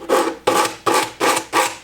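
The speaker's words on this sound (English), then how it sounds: "Now you got to get the sandpaper and you're going to sand the edges down." 100-grit sandpaper rasps across wood cabinet edges in five even back-and-forth strokes, close and fairly loud, with brief pauses between each pass.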